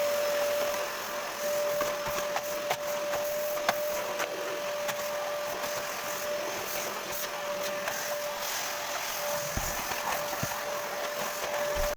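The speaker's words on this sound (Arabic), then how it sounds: "ما شاء الله المكنسه بتشفط اي حاجه، بحس كمان ان هي احسن من المقشه العاديه." A vacuum cleaner runs over carpet indoors with a continuous whirring drone and a steady high tonal whine. Scraping and rubbing noises come and go as it is pushed along, and a few knocks are heard near the end.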